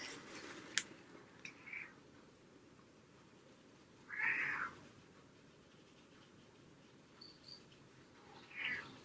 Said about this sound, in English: if you hear little kitty noises